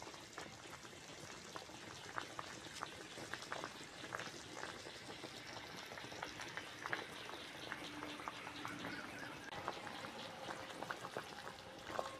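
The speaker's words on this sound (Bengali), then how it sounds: "বন্ধুরা, ঝোল ভালোভাবে ফুটে গেছে" Thin okra and prawn curry broth at a rolling boil, a dense continuous bubbling and popping that stays steady and close throughout, with no talk.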